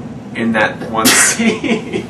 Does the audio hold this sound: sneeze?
yes